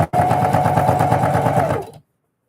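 A sewing machine runs in one loud, continuous two-second burst of fast, even stitching on a fabric Christmas bucket, then stops abruptly into silence.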